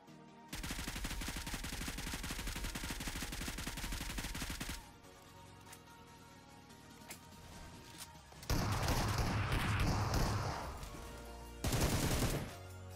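Gunfire in a battle royale video game: sustained rapid automatic bursts in long loud stretches, broken by a quieter lull and a later heavier, noisier barrage, heard without any talking.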